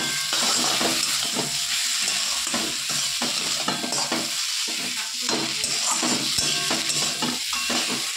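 Potato filling with kasuri methi and garam masala stirred in a pan, a spoon scraping in irregular strokes over a steady close sizzle, loud and continuous with no talk.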